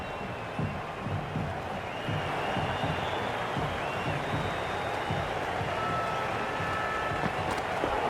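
A stadium crowd at the MCG in Cricket 26, Pakistan vs India, roars and cheers in a dense, continuous wash, steady and fairly loud throughout.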